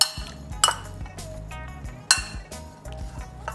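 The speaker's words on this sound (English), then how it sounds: "mix it well, but mix it with a spoon or a clean spoon basically" Spoon clinking against a bowl while mixing salted mango pieces for a quick tender mango pickle, with sharp metallic taps at irregular intervals over soft scraping and stirring.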